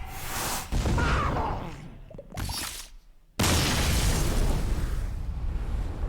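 Magical bursts from the Arcane Shot effect in the video game Hearthstone Mercenaries: a sustained crackling whoosh, a short fading flurry, a brief drop to near silence, then a second loud, broad impact burst that rings on.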